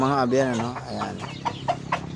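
Pet chickens cluck in short, bright bursts while being fed vegetables. Someone talks over the start, then the clucks come alone at a moderate distance.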